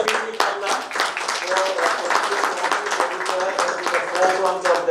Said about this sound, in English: a round of applause for Mr. P.P. Khanna